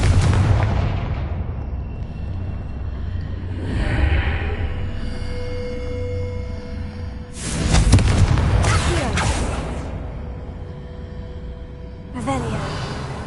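Confringo, an explosive fire spell in Hogwarts Legacy, erupts in heavy booming blasts, with a big burst midway and another near the end over a low rumbling background.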